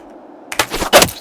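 A hunting gun fires during a mountain hunt in the video game Pentiment, giving two sharp, loud bursts about half a second apart after a quiet lead-in.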